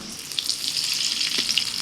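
Mutton frying in hot oil in a kadai gives a steady, dense sizzle with crackles and spatters throughout, close and fairly loud, with no talking.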